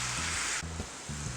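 Chicken and vegetables for fajitas sizzle loudly and steadily on a hot PK360 grill, a dense hiss with brief low clatters of food being moved.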